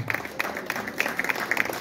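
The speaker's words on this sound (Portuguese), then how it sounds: "Aplauda o Senhor, só Ele é digno" Congregation clapping during a Portuguese-language church service, a brief burst of rhythmic hand claps from a crowd, moderately loud.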